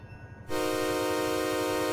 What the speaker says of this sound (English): I've switched the bell on sort of prematurely for that crossing.